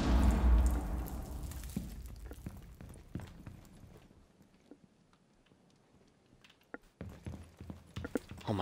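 Footsteps sound in the game Rainbow Six Siege as a scatter of irregular, hard taps and light clacks. A loud burst of noise opens the clip, then the steps fade to faint taps and grow busier again near the end.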